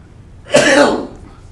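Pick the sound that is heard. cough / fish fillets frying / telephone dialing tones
cough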